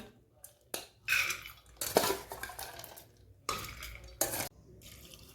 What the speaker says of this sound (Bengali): প্রেসার কুকারের মধ্যে তুলে দেবো ডাল।